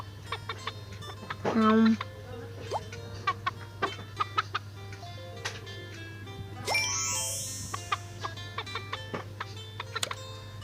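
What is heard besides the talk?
chickens clucking in baby bird video game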